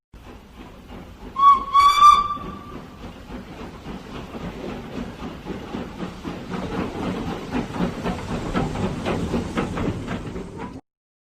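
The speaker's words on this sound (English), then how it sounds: "Locomotive." A steam locomotive gives a short, loud shrill whistle blast, then a steady rhythmic chuffing and hissing of steam continues at moderate volume for several seconds.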